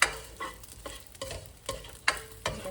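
Sausage frying in a pan for pancit, a soft sizzle broken by sharp stirring scrapes that come roughly every half second, close and with no talk.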